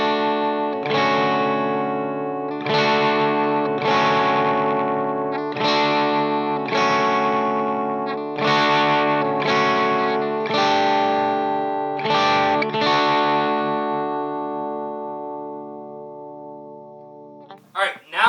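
Distorted electric guitar played through a Celestion Vintage 30 speaker, ringing out a series of loud, sustained chords in steady repeated strums with effects, fading near the end and followed by a couple of brief knocks.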